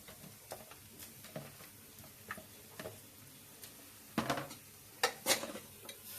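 Chicken pieces being stirred into masala in a pan for chicken curry: quiet scraping and clinks of a spoon against the metal pan, irregular taps with a few louder knocks near the end, no talking.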